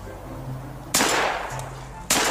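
A real gun fires on automatic at a tree outdoors, two sharp loud bursts about a second apart, each with a short ringing tail, and a faint low hum between them.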